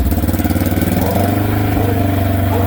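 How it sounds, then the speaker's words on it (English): A Polaris General UTV engine with a quiet clutch holds a steady rev near 3000 RPM, a loud, close, even mechanical drone with a continuous rhythmic pulse and no talk. "that's what quiet clutch sounds like"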